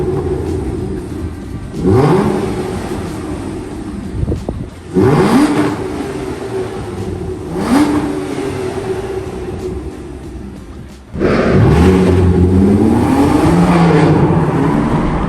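Aston Martin DB9 with a 5.9-litre V12 starting up and revving: a loud starter catch and bark, then several rising blips of the engine with gaps of idle between, ending in a sustained throaty rev, no talk over it.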